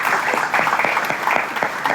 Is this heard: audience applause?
yes